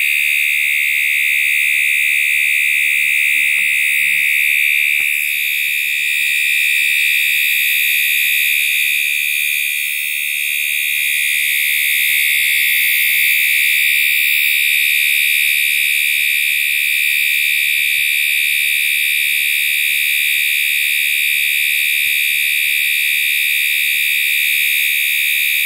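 A fire alarm sounds continuously during a test, a loud, steady high-pitched tone with strobe-type pulsing that holds unbroken for the whole stretch, with no voices.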